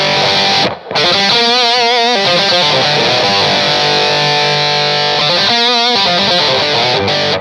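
Distorted electric guitar through a GOAT analog distortion pedal with its lead switch engaged, playing loud sustained chords and riffs with thick saturated harmonics, alone with no talking and a brief gap near the start.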